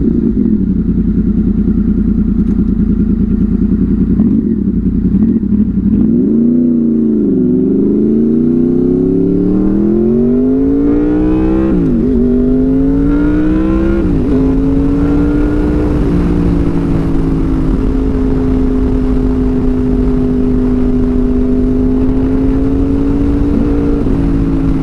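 A Honda VFR800 motorcycle fitted with a Power Commander V on a ride, its engine loud and close, revving up and down through several gear changes before settling into a steady cruising drone with wind noise.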